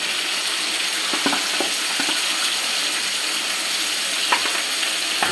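Chicken pieces frying in a pan for chicken kosha, with spices being added. A steady, moderate sizzle carries a few soft stirring clinks, and no one speaks.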